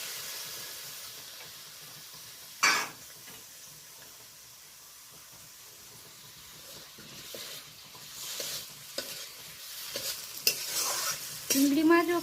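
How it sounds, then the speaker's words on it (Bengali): Shrimp frying in mustard oil with dried red chillies, garlic and onion, a steady low sizzle and hiss with brief stirring scrapes and a louder burst of spattering toward the end. "এরপরে চিংড়ি মাছটা ভেজে নেব।"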